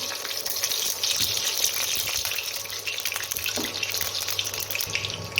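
Oil heats in a hot pan for tempering a spicy mutton head curry, giving a steady sizzle and crackle with a few light clinks of a utensil, close and continuous, no speech.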